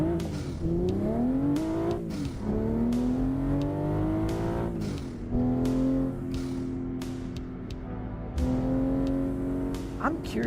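A car engine in a driving simulator game revs through repeated gear shifts, with rising and falling tones and brief clicks over a steady hum.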